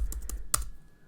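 Keys clatter on a computer keyboard as code is typed, a few quick close taps followed by a slightly louder single keystroke, then quiet.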